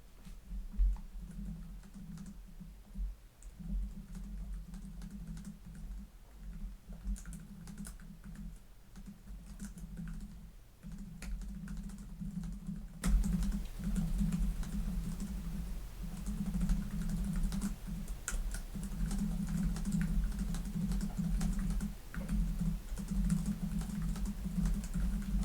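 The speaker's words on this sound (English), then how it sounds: "we'll come over here and we'll do a quick type" Typing on the keyboard of a 2026 Dell XPS 14 laptop with Intel Panther Lake, a steady close run of soft key clicks under a constant low hum, with no talking.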